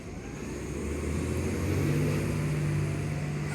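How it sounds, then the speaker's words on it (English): A NewWay Sidewinder garbage truck works on a soggy, wet morning, its diesel engine droning steadily and swelling into a louder, higher-pitched whine midway that holds to the end. "I hope y'all enjoy this video of this garbage truck on this somewhat sloppy"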